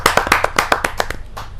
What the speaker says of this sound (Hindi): आप हमें जोरदार तालियां